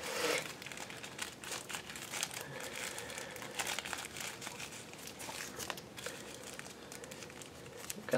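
A frosted plastic bag holding a stereo headset crinkles steadily and close by, a continuous papery crackle with scattered sharper crunches.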